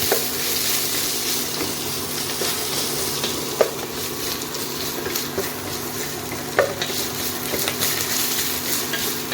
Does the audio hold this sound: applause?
no